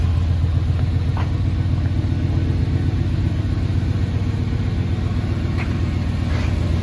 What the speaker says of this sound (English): I'll go ahead and fire it up too here so you can hear it run. Okay, so here's cold start.